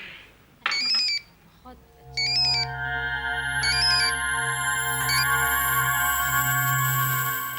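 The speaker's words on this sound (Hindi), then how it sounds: "क्या बात है नीरज, फोन क्यों नहीं अटेंड किया?" A melodic electronic phone ringtone plays: a few chirpy bursts first, then a sustained chiming tune that swells and keeps going.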